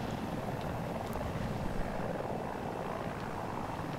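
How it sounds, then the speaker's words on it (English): Attack helicopter in the shooter game Battlefield 2042, a steady, dense rotor and engine roar that stays constant throughout with no pauses. "There was an attack chopper."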